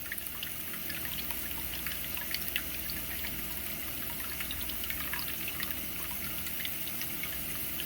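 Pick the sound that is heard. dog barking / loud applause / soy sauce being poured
soy sauce being poured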